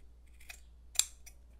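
Scissors snipping through a T-shirt to make yarn for a crochet bag: two or three quiet, close, crisp cuts in an otherwise hushed room.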